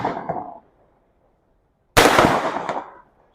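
Firecrackers go off at a youth football match in Mumbai, two sharp crackling bursts split by a second of silence, the second longer and louder with rapid popping that fades out.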